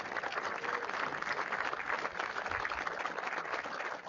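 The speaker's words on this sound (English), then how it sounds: "Huge Panther round of applause to Augusta Floral" Crowd applause in the stands at a high school football game, a continuous, fairly loud wash of clapping from a large, distant crowd that holds steady throughout.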